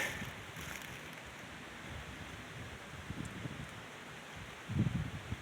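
A breeze blowing outdoors on a hot, cloudy day: soft steady wind with leaves rustling, fairly faint, and a brief stronger gust near the end.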